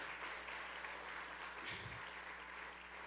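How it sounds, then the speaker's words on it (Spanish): Church congregation clapping, a sustained wash of applause at moderate distance, steady for a few seconds with a brief low thump partway through. "Denle un aplauso al Señor."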